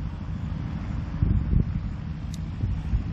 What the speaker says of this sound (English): Wind's picked up a little more, but not too bad at all